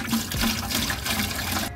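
Coolant pours steadily from a jug into a bucket during a coolant change on a second-generation Toyota Tundra, a close, continuous gurgling liquid stream that cuts off abruptly at the end.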